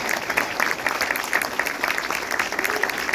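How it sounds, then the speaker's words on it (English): A studio audience applauds Heather Rae El Moussa at a panel show, a sustained wash of many hands clapping at moderate level, fairly even throughout. "Give her a nice round of applause."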